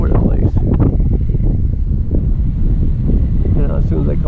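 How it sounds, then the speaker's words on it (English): Strong wind roars steadily across an open farm field where an E-flite Piper Cherokee RC plane is being flown, a loud, buffeting rush that fills the whole stretch with faint bits of other noise on top. "it's like looking at this kind of wind is crazy"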